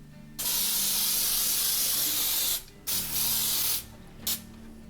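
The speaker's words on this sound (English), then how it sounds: "we're going to spray our pan with some nonstick spray" Several hissing bursts of aerosol cooking spray, one long, then shorter spurts, close up with a faint background hum.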